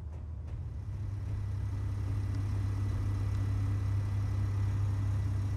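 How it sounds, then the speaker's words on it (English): A rusty machine's engine runs in Space Engineers, a steady low hum that starts with a couple of faint knocks and then drones on evenly and close, with no voices. "This thing even has an engine running."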